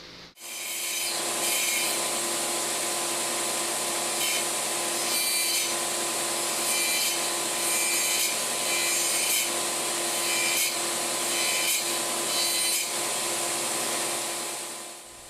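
A bandsaw cuts through 2-inch thick wooden wagon wheel spokes, giving a loud, continuous whine with rough rasping as the blade works the wood, close up and with no talking.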